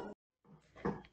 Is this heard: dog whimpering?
yes